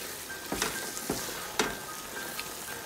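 Chicken palak masala with double cream fries on high heat, a quiet steady sizzle broken by several soft scraping knocks of a spoon against the pan.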